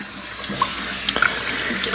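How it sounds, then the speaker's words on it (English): Warm water runs from a tap into a sink as it fills. The splashing rush is steady, close and loud from start to finish, with a few small gurgles and no voices. "I'm gonna fill up this sink"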